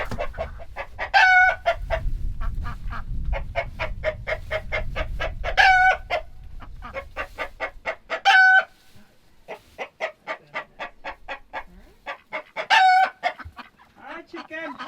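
Rooster and hens in a coop during extremely cold weather: rapid clucking and cackling continues throughout, with several loud crows rising above it, and rustling underneath early on.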